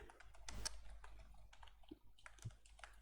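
Fingers type a single-line JavaScript code comment on a computer keyboard, producing soft, uneven clicking keystrokes, quiet and close with no one speaking.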